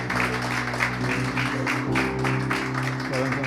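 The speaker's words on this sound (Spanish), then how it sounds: "Vamos a darle un aplauso al Señor." A church congregation applauds, sustained clapping from many hands filling the room, with a steady tonal hum from music or organ underneath.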